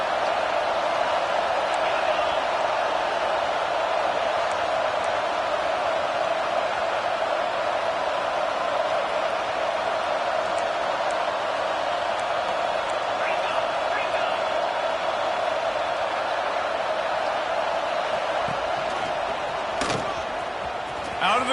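A dense, steady roar from a large stadium crowd at a college football game, TCU playing at Michigan, droning without a break across the whole stretch, with a brief louder swell near the end.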